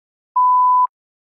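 A single clean electronic beep marks the start of the speaking response in a TOEFL practice test, one steady tone of about half a second, alone in silence.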